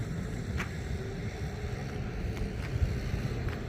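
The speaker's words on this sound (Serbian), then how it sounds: "Ovdje smo na planini pa je malo duva i neki vetar" Wind blowing on a mountain at a drag racing event at Ponikve airfield near Užice, a low steady rumble buffeting the microphone for a few seconds, with no voices.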